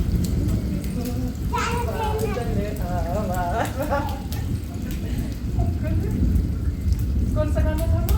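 Steady rain pours throughout, with children's voices and singing heard over the constant downpour.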